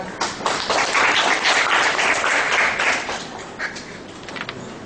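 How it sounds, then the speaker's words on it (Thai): A steady round of applause from a small crowd, many hands clapping continuously for several seconds before easing slightly. "ตบมือครับ"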